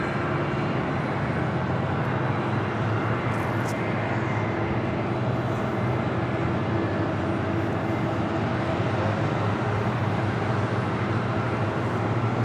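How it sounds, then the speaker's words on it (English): Turkish Airlines Airbus A330-300 arriving at JFK: a loud, steady broadband jet roar that holds without break, with no speech. "Turkish Airlines Flight 3 coming in from Istanbul"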